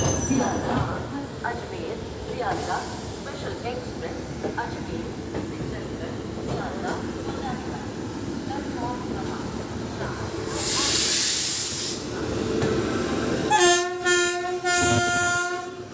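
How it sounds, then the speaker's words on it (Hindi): An Indian Railways Shram Shakti Express locomotive idles at a station at night with a steady diesel rumble and hiss, then sounds a loud blast of its horn near the end; voices murmur in the background. "यह है हमारे ठीक सामने खड़ा है श्रम शक्ति एक्सप्रेस का लोकोमोटिव"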